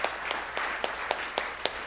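Audience applause at an academic symposium on plant-based foods and nutrition: a short burst of scattered clapping with sharp individual claps standing out at a steady rhythm, moderately loud and close.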